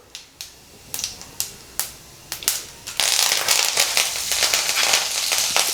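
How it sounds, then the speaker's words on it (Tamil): Mustard seeds temper in hot oil for potato masala: a few sharp, separate pops come first, then a dense, loud spluttering crackle that continues close by without talk. "கடுகு நல்லா பொரிஞ்சிருச்சு"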